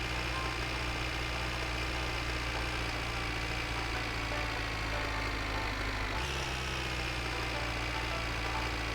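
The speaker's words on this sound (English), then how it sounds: "it's been a lot of tractor noise today" A tractor engine in the video game My Winter Car drones at a steady idle with a low, constant hum, briefly dipping in pitch partway through before settling again, with no voices.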